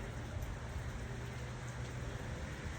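Steady rain falling outdoors, a constant dense hiss of drops at moderate, even loudness with no voices.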